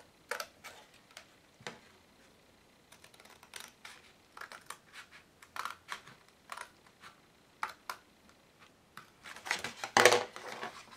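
Scissors snip repeatedly at close range while cutting material for a homemade Zero-G Beyblade stadium, a series of sharp, irregular clicks with short pauses between cuts and a denser burst near the end.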